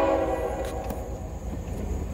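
A CSX maintenance-of-way train rolls past westbound, giving a steady close rumble with a faint horn tone above it and no talking.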